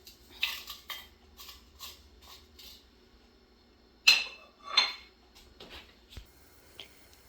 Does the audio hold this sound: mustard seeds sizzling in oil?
yes